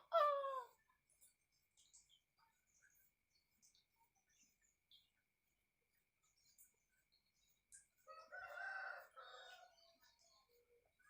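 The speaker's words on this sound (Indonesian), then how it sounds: "Kayak di kampung banyak suara ayam." A rooster in a village gives one loud, close crow at the start, followed by long near-silence with faint insect chirps, then a burst of softer fowl clucking and chatter toward the end.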